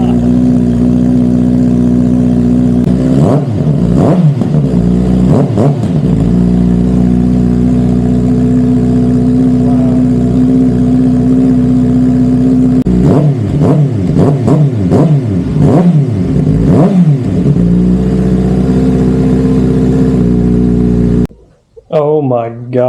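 A 2025 Kawasaki Ninja ZX-6R with an M4 exhaust, baffle still fitted, idles loudly up close and is blipped in two clusters of sharp, rapid revs before the engine cuts off abruptly, with voices briefly heard after.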